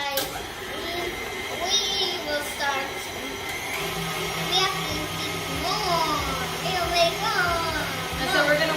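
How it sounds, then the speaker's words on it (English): An electric kitchen mixer hums steadily through the second half while children chatter and talk over it throughout, the motor sound low and partly buried beneath their voices. "now I'm gonna turn on our mixer"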